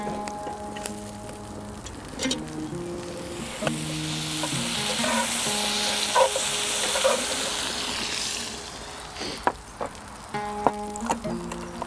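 Food sizzles and fries steadily in a pan over a gas flame, a continuous hiss with occasional stirring scrapes, while background music plays throughout.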